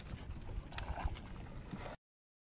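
A small wooden boat is rowed on the water: soft splashes and gurgles from the oars, with low knocks and a windy rumble, close and fairly quiet, stopping abruptly near the end.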